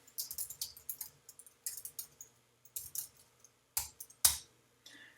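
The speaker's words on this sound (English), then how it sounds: "we're going to type in a command, and that command will be show databases" Keystrokes on a computer keyboard as a command is entered, a quick irregular run of nearby clicks and taps with a few louder strikes near the end, no talking.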